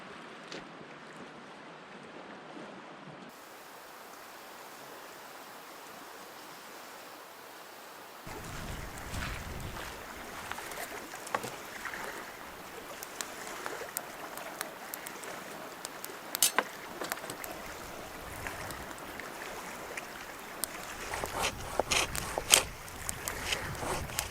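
Strong wind sweeps across a lake in the Quetico wilderness, at first a faint low rush, then after a few seconds heavy gusts batter the microphone in loud, uneven bursts.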